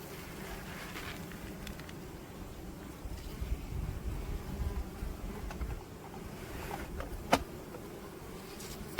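Honey bees fly around a hive on a hot day, a steady low buzzing drone that persists throughout with faint wind noise.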